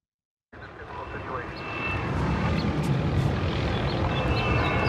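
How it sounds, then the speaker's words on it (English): A helicopter patrols over closed beaches, its steady rotor and engine roar swelling in from silence and holding as a broad, continuous drone, fairly distant and without talk. "helicopters patrolling beaches, telling people that they can't go outside"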